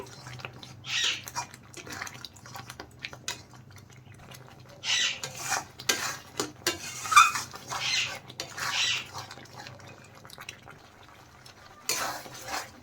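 Spice paste for masala chole being stirred and fried in a metal pan, bursts of spatula scraping against the pan over a faint background sizzle, with pauses between strokes and no voices.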